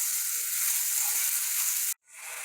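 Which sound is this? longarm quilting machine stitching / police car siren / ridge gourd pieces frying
ridge gourd pieces frying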